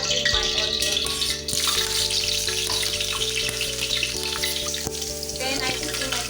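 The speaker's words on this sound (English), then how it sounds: "my oil is hot enough, so I pour in my onions" Loud, steady sizzling of onions frying in hot oil for jollof rice, with continuous crackling and popping and some clinking underneath.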